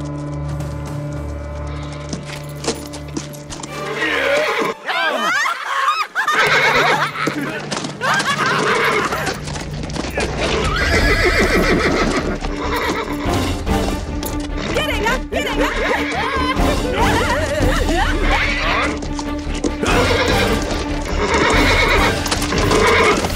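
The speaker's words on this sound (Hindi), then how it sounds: "अरे ये घोड़ा पागल है क्या?" A horse neighs loudly and its hooves clatter in a scene from a South Indian action film dubbed into Hindi, with crashes and shouting voices mixed in throughout a dense, busy soundtrack.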